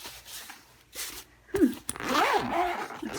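A pencil case zipper rasps open up close, a quick scratchy pull following a couple of soft handling clicks.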